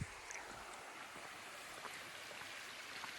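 Water in a creek by a road access point runs as a steady, frothy rush with a broad, even hiss that holds from start to end and has no voices over it.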